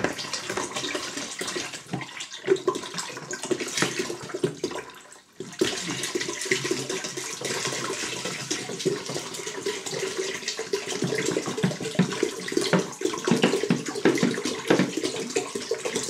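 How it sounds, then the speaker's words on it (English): Seven litres of cold water gush steadily and loudly into a container for ginger beer, a continuous splashing pour with a brief pause partway through. "Then we add our cold water, 7 litres."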